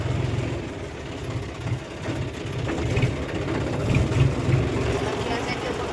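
A JD tractor plowing a field runs with a steady, low, throbbing engine note that rises and falls slightly, heard close up while people talk.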